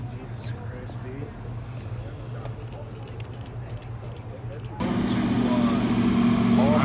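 A Ford Mustang GT500 engine rumbles at a car meet, a low steady idle under nearby chatter that jumps abruptly louder and rougher toward the end as the car draws close.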